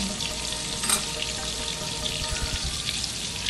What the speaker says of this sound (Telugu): ఆనియన్ కూడా ఫ్రై చేసుకున్నాం.